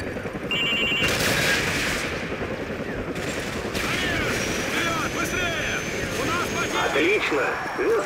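Combat in Call of Duty: Modern Warfare 2 with enemy helicopters approaching: a constant loud roar of rotors and gunfire, with radio-style voices talking over the din.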